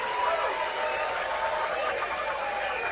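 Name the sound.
crowd cheering at pool table 1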